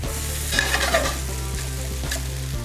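Hash browns sizzle steadily in a hot pan, a continuous close frying hiss with brief scraping bursts as the potato cake is stirred and flipped partway through.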